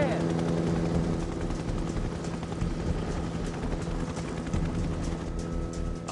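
A helicopter flies at high altitude, its loud, continuous rotor thrum and engine drone heard from inside the aircraft with no pause.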